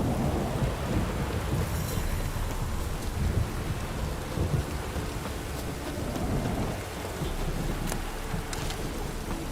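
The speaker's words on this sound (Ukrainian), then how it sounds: "Ох і погода чортові забрала. Блискавка, дощ." A thunderstorm in The Witcher 3 game, with steady heavy rain and rolling thunder filling the scene at a constant loud level.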